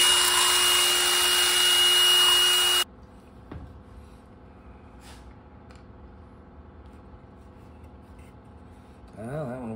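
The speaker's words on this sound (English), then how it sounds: "I have to sand them down" Wooden dowels for scrap-wood Christmas ornaments being sanded by a power tool in a loud, steady burst at the start, which then cuts off, leaving faint scattered handling noises in a quiet room.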